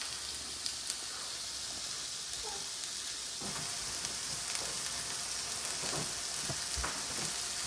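Eggless shakshuka sizzles steadily in a pan as it is stirred, a constant close frying hiss with occasional scraping knocks from the spoon and no talking.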